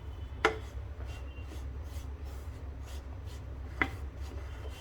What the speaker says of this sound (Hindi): अब इस आटे को भूनना है हमें लो फ्लेम पर अच्छे से